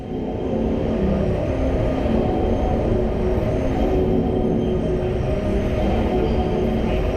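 A long roller coaster train rumbles steadily on its track at Bobbejaanland, Belgium, a continuous low roar with faint rattling that holds an even loudness from start to finish.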